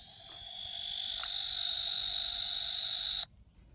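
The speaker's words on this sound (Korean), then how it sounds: "이렇게 우렁찬 매미의 울음소리를 함께 들어볼까요?" A large Korean cicada (malmaemi) in a summer forest sings a loud, continuous shrill drone that swells over the first second, holds steady and close, then cuts off abruptly near the end.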